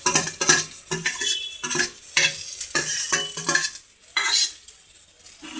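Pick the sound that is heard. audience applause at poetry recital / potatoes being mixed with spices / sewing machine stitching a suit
potatoes being mixed with spices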